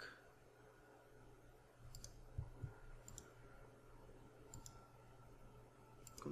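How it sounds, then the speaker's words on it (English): A computer mouse clicks a few times, faint, sharp and spaced apart over quiet background hum, with no talk. "right click,"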